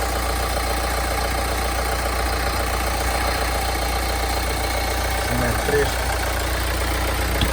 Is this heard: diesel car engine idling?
yes